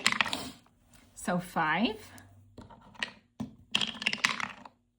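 Dice clatter and rattle down through a dice tower in a tabletop game, making sharp, rapid clicks in a few separate bursts, with a voice speaking between and over them.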